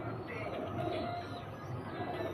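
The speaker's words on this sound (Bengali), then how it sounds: "দেখুন পায়রার কোয়ালিটি" Domestic pigeons in a home loft give soft, low, rolling coos, faint and somewhat distant against a quiet background.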